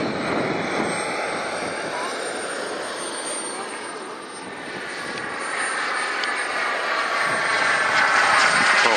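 A turbine-powered model jet roars overhead at a jet rally, a loud continuous whine that dips briefly then swells again as it passes, with people talking nearby.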